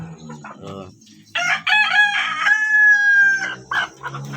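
Free-range native village hens cluck while a rooster crows loudly and close by, one long drawn-out call rising above scattered clucking and faint farmyard noise.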